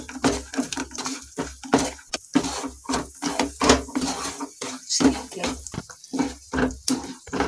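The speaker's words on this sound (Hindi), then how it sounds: "इसे मैं हिलाती रहूंगी अच्छे से, जब तक ये चीनी अच्छे से मेल्ट ना हो जाए" Metal spoon clinking and scraping in a pan as sugar syrup with a pinch of cardamom powder is stirred until the sugar melts; steady, rhythmic, close-up strokes with no talking.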